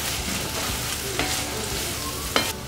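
Prawns and egg are stir-fried for fried rice in a hot pan, a continuous loud sizzle broken by a few sharp scrapes of the spatula.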